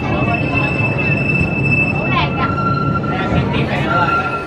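The Legoland Windsor hill train runs with a constant rumbling roll and thin high squeals from the wheels, while a voice talks over it.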